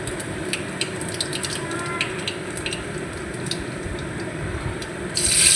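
Black cumin seeds crackle and sizzle in hot oil in a wok. The frying is steady and close, with faint scraping from stirring and a louder burst near the end.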